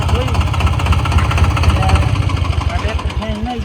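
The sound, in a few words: 4x4 tractor engine during tractor tug-of-war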